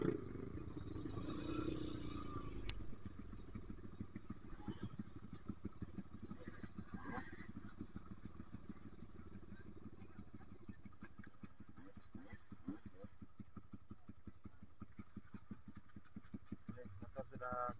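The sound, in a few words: motorcycle struggling up a slippery incline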